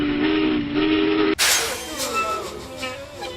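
A steam train whistle sounds as a steady tonal blast that cuts off abruptly, giving way to hissing and clattering rail noise.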